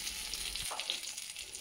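Eggplant pieces fry in oil over a medium flame, a close, crackling sizzle that carries on steadily and drops to a softer hiss partway through.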